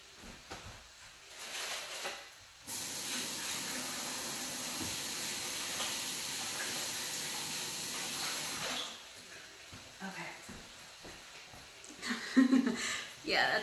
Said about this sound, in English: I am gonna wash my hands again